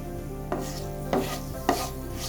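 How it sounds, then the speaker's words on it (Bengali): Whole spices fried in hot ghee for ghee polao (green cardamom, cloves, black peppercorns, mace), with three short stirring scrapes over a low steady background hum. "মশলাগুলো ভালো করে ভেজে নিচ্ছি।"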